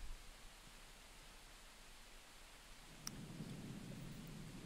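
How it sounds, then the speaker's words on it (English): Rain grows heavier in a stormy video game scene, a steady hiss that swells louder midway as a sharp crack of thunder breaks in, with no talking. "Lightning flashes intensifying, rain's getting heavier, it's like it's building up to kind of climax."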